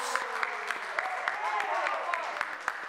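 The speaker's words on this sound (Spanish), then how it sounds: "Y con el aplauso del público" Applause from the crowd at a lucha libre wrestling match, a soft wash of clapping with sharp slaps from the ring and a commentator talking over it.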